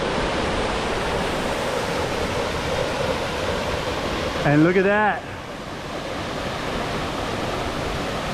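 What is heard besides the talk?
waterfall, Sulphur Creek Falls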